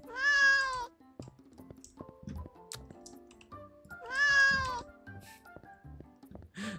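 A cat meows twice when petted in the video game Therapy Simulator, each meow clear and drawn-out, separated by a few seconds of soft clicks and light background game sounds.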